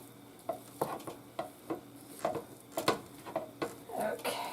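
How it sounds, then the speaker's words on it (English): Browned ground beef crumbled with a meat masher in a pan for a hamburger bean bake casserole, rhythmic scraping and pressing strokes over a soft sizzle, fairly close. "I'm using my meat masher because you want it to be fine and crumbly"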